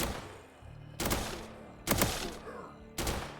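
Guns firing in the Roblox game Reign Fall, three sharp, loud bursts roughly one second apart, each trailing off into a short rumbling decay over faint background noise.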